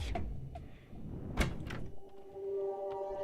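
A door opens in the Terraria video game with a quick thunk, followed by a sustained tonal hum and other small game sounds, played fairly quietly.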